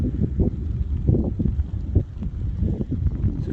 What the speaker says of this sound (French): il y a un vent là d'un coup